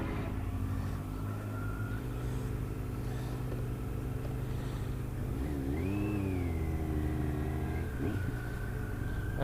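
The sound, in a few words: motorcycle engine revving on a ride to Ducati Nottingham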